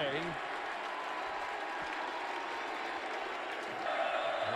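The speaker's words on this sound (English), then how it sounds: "Crowd making it difficult for Devin Gardner and the Wolverines" A college football stadium crowd at a Michigan State versus Michigan game roars and cheers in a continuous wall of noise, with an announcer talking over it.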